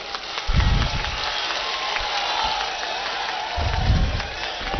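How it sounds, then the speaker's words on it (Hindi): A crowd at an outdoor political rally in Paru, Muzaffarpur, claps in two loud bursts of applause over a steady murmur of people, with a lull in between. "एक बार सभी आदमी ताली से हमारे गार्जियन का स्वागत करें।"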